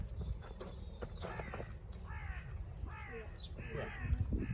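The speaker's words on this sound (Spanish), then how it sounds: "Cuervos." Crows caw repeatedly in ragged, overlapping calls on a farm in Asturias, against a steady outdoor background with a faint low rumble and a few soft hoof-like knocks near the end.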